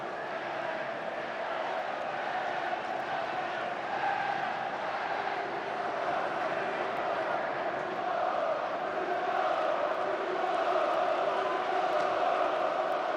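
Broad, steady roar of a football stadium crowd at a 2005 cup final, a dense wash of massed voices holding level throughout with occasional swells, a distant singing tone riding on top.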